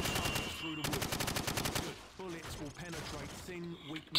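Rapid bursts of gunfire in Call of Duty 4: Modern Warfare's training mission, loud and rhythmic, with automatic fire rattling in quick succession alongside game music and effects.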